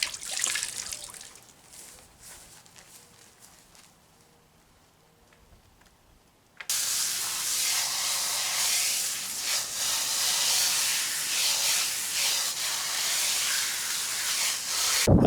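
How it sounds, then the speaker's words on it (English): Water runs and splashes over wet animal furs being rinsed, starting as quieter drips and trickles before a strong, loud hissing stream gushes steadily for the rest of the time. "I'm going to wring them out a bit and hang them up and rinse them off"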